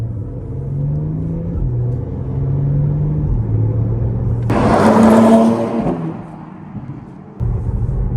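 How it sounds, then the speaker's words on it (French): A 2021 Porsche Panamera 4S E-Hybrid's V6 engine hums steadily, heard from inside the cabin, then revs up in a loud burst of acceleration before easing back to a low drone. "J'espère que vous allez entendre la sonorité du V6. On va accélérer un peu."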